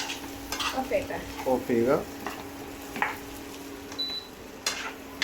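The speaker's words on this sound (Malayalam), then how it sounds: "ഇങ്ങനെ നൈസിലിങ്ങനെ ഇളക്കി കൊടുക്കുക" A chicken fry biryani mixture is stirred in a pan with a spoon, scraping softly against the metal amid a faint sizzle, while a voice speaks briefly in the background.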